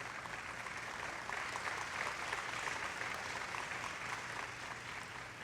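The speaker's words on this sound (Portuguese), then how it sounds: "Se você vai dar aplauso para ele, que seja bem forte." Church congregation applauding, a steady, even wash of many hands clapping at moderate distance, sustained throughout without a break.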